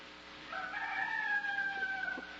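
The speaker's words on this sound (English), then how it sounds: "It sounds like a rooster." Rooster crowing in a 1970s science-fiction radio drama, a single drawn-out cock-a-doodle-doo at moderate distance over faint background hiss, alone without talk.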